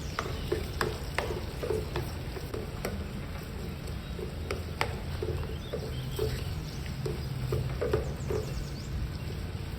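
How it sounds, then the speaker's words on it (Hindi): Onions frying lightly in a pot for palak gosht, a constant soft sizzle with regular clinks and scrapes of a spoon stirring, close and even throughout. "बस थोड़ा सा प्याज को फ्राई करना है।"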